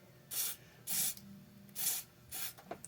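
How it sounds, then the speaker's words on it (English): Four short bursts of cleaner sprayed onto the switches of an old RCA WO-91C oscilloscope during restoration, each a soft hissing puff about half a second long, spaced at even intervals and close by. "when I get in here and do this, and I spray these switches"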